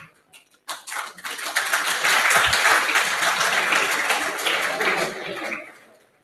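An audience at an Italian science talk bursts into sustained applause, building quickly to a loud, dense clatter of clapping that holds for several seconds before tapering off, with a few faint voices and light laughter mixed in.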